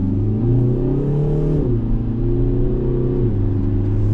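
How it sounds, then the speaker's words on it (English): A 2024 Kia Forte GT, front-wheel drive with an open front differential and a 7-speed dual-clutch, accelerates hard from a stop. The engine note is loud and steady, rising in pitch through two clear gear shifts. "if you stand on it too fast, you're going to spin wheels"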